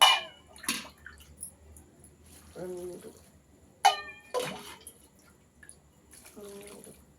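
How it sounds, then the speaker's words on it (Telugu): Several short splashing pours of water from a glass into rice for sambar rice arrive at intervals, separated by quiet gaps with a voice speaking softly between them. "ఐదు ఐదు గ్లాసులు నీళ్ళు పోసుకున్నానండి ఈ గ్లాస్తో"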